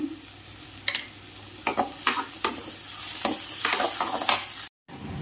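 Chilli parotta ingredients sautéed with kasuri methi in a pan, with several distinct scrapes and stirring strokes over a steady low sizzle, close and moderately loud. A brief dropout of silence comes near the end.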